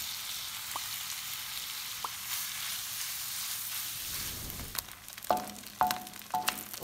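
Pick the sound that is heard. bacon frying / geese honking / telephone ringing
bacon frying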